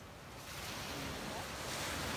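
Ocean surf with waves washing steadily near a holiday house, mixed with wind buffeting the microphone; a continuous broadband rush that swells slightly louder after the first half second, with no voices.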